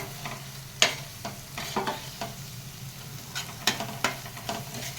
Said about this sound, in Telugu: ఇప్పుడు ఇలా 2 నిమిషాలు మనం కారం ఫ్రై చేద్దాం.